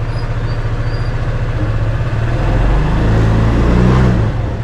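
A Honda PCX 150 scooter with a noisier-than-usual exhaust idles close by, then revs up and holds a louder, steady drone for a couple of seconds.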